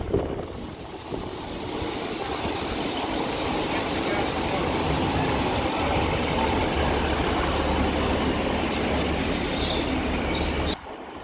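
A Class 150 diesel multiple unit rolls past at close range in Stockport, a steady loud rumble of wheels and engine with squealing rail noise, filling the whole stretch before cutting off abruptly near the end.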